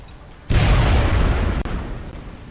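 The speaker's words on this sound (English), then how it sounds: "It did explode that gas pump, but it didn't actually do any damage." A gas pump blows up in the XCOM video game, a single loud, close blast with a sudden onset that rumbles and roars before tapering slightly.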